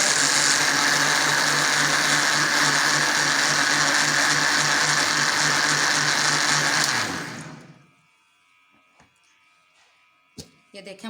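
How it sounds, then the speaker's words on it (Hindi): An electric blender whirs loudly and steadily while blending halwa ingredients, running for about seven seconds before winding down and stopping, followed by a few faint clicks. "ये देखें हमारी चीज़ें अच्छी तरह हो गई हैं ब्लेंड"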